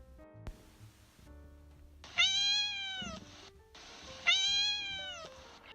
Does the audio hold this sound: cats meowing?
yes